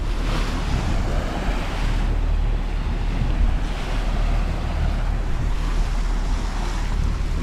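Steady rushing wash of roughly three-foot waves on open lake water around a moving boat near Vienna Shoals, a continuous loud broadband roar with wind buffeting the microphone and no voices.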